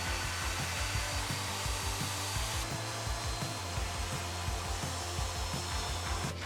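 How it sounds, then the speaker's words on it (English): A portable air conditioner running indoors on backup power in a bedroom, giving a steady mechanical hum with a low, rhythmic pulsing throb repeating throughout, moderately close and with no speech. "You can hear that I have the AC running"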